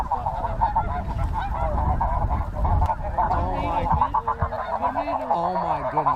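A huge flock of snow geese honks and clamors continuously and close by during a spring conservation hunt, a loud dense wall of calls, with a few voices briefly audible beneath.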